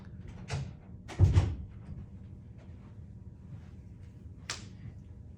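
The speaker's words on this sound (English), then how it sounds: "let me close this door right quick" A door is pushed shut indoors with one dull, muffled thud, preceded by a short creak or rustle. A faint click follows later in an otherwise quiet room.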